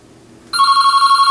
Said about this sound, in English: of course the phone is ringing,